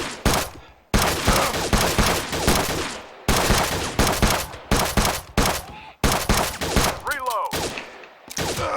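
Gunfire in the VR shooting game Gun Club VR comes in loud, dense bursts of rapid shots, broken by brief silent pauses between volleys, with a faint voice in the background.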